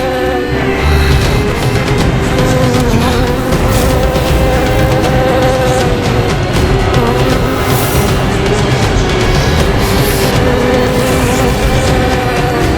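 A dense, loud drone of countless buzzing insects fills the air continuously as a sound effect, thick and unbroken throughout with faint whirring flutters layered in.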